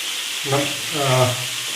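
Kerala-style prawn roast: prawns fry in a pan with a steady broadband sizzle, while a voice talks over the frying for most of the short stretch.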